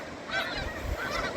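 A flock of Arctic geese honks in overlapping calls by the beach near Rimouski, with several distinct honks over a low outdoor rumble.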